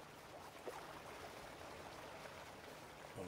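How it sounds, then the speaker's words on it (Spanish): Small waterfall in Farming Simulator 19, water pouring down from a forest logging area, giving a steady, even rush of splashing flow that holds at moderate level throughout with no voices. "Aquí tenemos una pequeña cascada."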